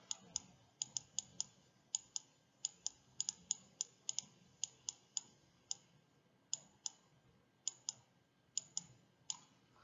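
A computer mouse clicks in quick, irregular bursts, sharp and close but quiet, while someone writes with the mouse during an anatomy lesson.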